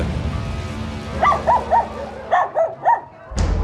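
Several pet dogs kept in a residential compound in Capas, Tarlac bark in two short bursts of three or four yaps each, moderately close over a steady low background hum.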